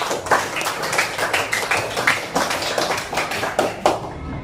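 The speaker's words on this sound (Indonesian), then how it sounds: "Tepuk tangan untuk kelompok 3" Students in a classroom clap for a group, a small cluster of hands producing uneven, rhythmic claps close by, continuing for a few seconds.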